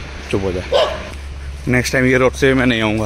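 A dog barking on a dark, deserted road at night: loud close barks and yips come in short bursts while someone talks nervously over them.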